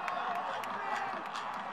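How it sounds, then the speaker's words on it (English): A stadium crowd in Sydney roars steadily after a goal in a Cape Breton Capers national title soccer match, a dense, continuous wash of cheering heard at a distance with no break. "the crowd goes bananas here in Sydney"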